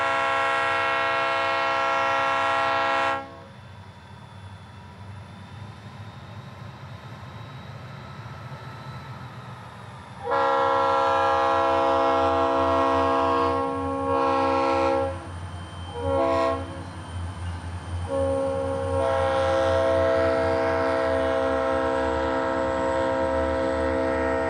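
DeQueen and Eastern diesel locomotive D13 on a short-line freight run to Dierks sounds long, loud chords on its horn near at hand over a steady idling engine rumble, with a few short horn bursts in between.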